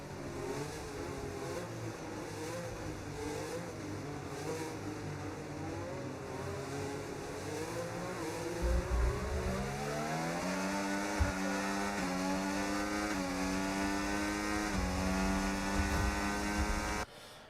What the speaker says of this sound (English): So let's let that engine roll.